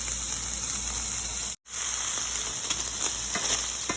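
Ground chuck fries in a pan with a loud, steady, close sizzle that cuts out for a moment and then resumes.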